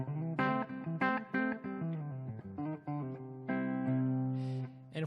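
A clean electric guitar, with the Wampler Plexi Drive Deluxe pedal off, plays a melodic phrase of plucked notes and held chords, bright and undistorted, close with a touch of room echo.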